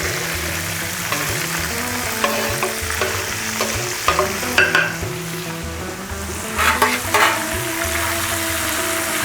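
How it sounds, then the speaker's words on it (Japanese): Soft shell crab stir-fried in a pan for yellow curry, with a steady close sizzle broken by rhythmic scraping strokes of stirring and a few louder clacks of the utensil against the pan. "よし炒めていきますか。"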